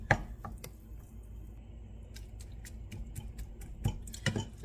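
A spatula or spoon breaking up and stirring meat as it cooks in a pan, giving soft irregular scrapes and clicks over a steady low sizzle, with a few sharper taps near the end.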